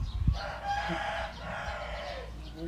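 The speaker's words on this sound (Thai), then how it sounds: "เสียงไก่สิค่ะ" A rooster crows once in a long, drawn-out call, fairly close, over a low background rumble with no talk, in a rural Thai village.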